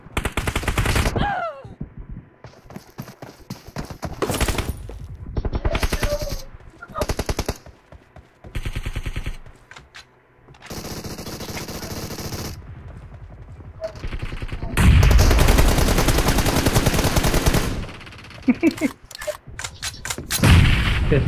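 Bursts of automatic and single gunfire in the mobile battle royale game BGMI, loud and repeated in rapid volleys with pauses between, heaviest toward the end, with occasional players' voices in the mix.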